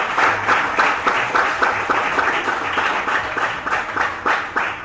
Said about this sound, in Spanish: Vamos a brindar un fuerte aplauso a nuestro Dios.